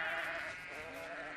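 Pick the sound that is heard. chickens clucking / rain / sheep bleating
sheep bleating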